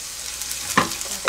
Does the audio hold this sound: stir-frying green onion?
yes